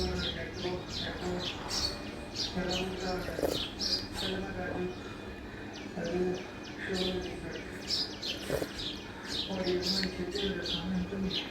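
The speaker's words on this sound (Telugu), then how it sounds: "ఎంత కిచకిచ అంటున్నా చూడండి" Many small birds chirp and tweet busily on a morning outdoors, sharp bright calls scattered continuously over a quiet background, fairly close and moderately loud.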